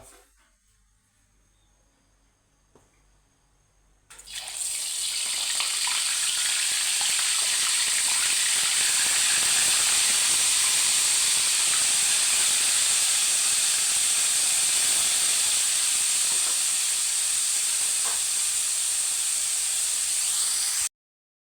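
Flour-coated tofu drops into hot oil after a few quiet seconds, setting off a loud, steady deep-fry sizzle and hiss that holds close and unbroken to the end.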